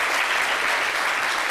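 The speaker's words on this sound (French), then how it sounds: "Franchement, je pense qu'on peut applaudir ça quand même." A studio audience on a French midday TV show bursts into brief, dense applause, a continuous wash of clapping for under two seconds with no voices over it.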